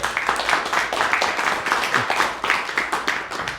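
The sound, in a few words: audience applause for the volunteers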